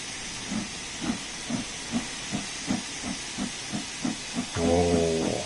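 A steam locomotive in Train Sim World 4 chuffs in a steady rhythm under a constant loud hiss of escaping steam, and a short whistle-like tone sounds near the end.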